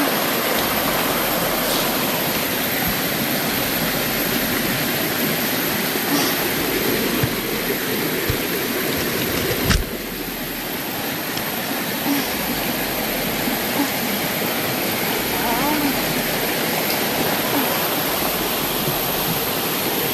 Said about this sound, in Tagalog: Nandito ako sa may sapa.